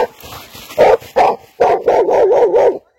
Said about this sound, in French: c'est juste un chien qui a foncé sur moi